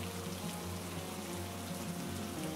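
Steady rain pours down in a Bangla cartoon on a rainy day, a dense, even hiss of falling water that runs without a break and with no voices over it.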